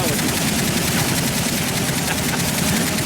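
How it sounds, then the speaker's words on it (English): Sustained suppressing machine gun fire from Call of Duty: Modern Warfare 3 rattles on nonstop, loud and dense, a continuous burst with no pauses and no talk over it. "Suppressing fire. Wow, that actually worked."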